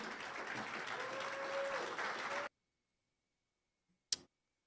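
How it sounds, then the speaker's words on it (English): A crowd applauds steadily for a couple of seconds, then the clapping stops abruptly into silence, followed by a single sharp click. "have you encourage him with a round of applause"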